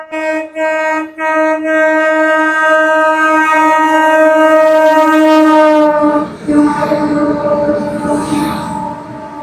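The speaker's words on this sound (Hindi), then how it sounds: "ट्रेन आ गई।" An Amrit Bharat Express train pulls into a railway station, sounding a long, loud, sustained horn blast after a few short toots, followed by rumbling wheels and station clatter.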